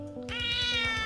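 A house cat gives a single drawn-out meow, clear and close, rising into a bright whine that holds for most of a second over a faint steady hum.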